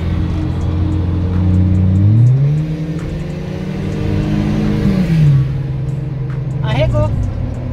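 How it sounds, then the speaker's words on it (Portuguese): A Nissan GT-R passes nearby and accelerates, its loud engine drone climbing in pitch twice over a steady road roar, with voices talking over it. "olha o GTR passando."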